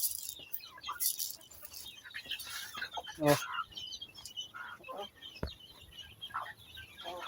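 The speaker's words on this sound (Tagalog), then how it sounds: "Pakain ka mga manok sa kulungan na." Chickens cluck and call near a backyard coop, with new young chicks among them, in scattered close bursts. Someone speaks briefly among the birds and there is a soft rustling.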